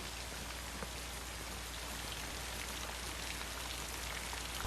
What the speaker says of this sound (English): Sorry, I didn't hear you in all this rain.